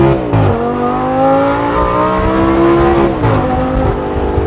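A salvage Lamborghini engine revs hard and accelerates close up, a loud rising roar that climbs in pitch, drops sharply at a gear shift, then climbs again before another shift near the end.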